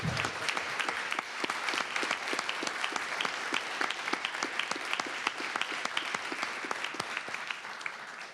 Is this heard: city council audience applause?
yes